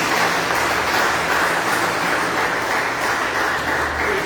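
Loud, sustained applause fills a church during an evening worship service, with dense, steady clapping from the congregation continuing without a break and no talk over it.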